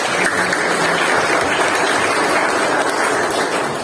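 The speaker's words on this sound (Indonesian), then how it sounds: "Baik, tepuk tangan dulu buat Messi." Elementary students in a third-grade Islamic studies class applaud a classmate named Messi, loud, continuous clapping from many small hands filling the room without pause.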